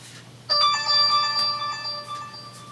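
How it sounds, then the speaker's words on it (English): A mobile phone ringtone sounds after a moment of quiet, a bright electronic melody of clear pulsing tones that repeats at close range and fairly loud, playing alone with no talk. "my dumb phone."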